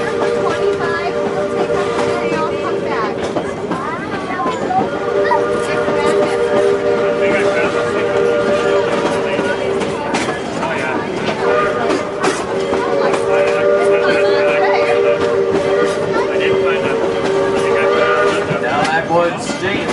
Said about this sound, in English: simply listen to the way they blow that whistle